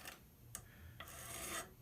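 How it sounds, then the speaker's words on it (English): An old rasp file working the wood end of a Gewehr 1898 rifle stock, three or four slow rough rasping strokes, close and quiet, each a dry scraping rub. "Just get my old rasp file and just carefully"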